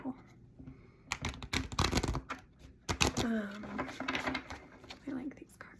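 Wisdom oracle cards being shuffled in quick papery riffles and flicks, loudest in the middle, with a soft voice murmuring faintly alongside.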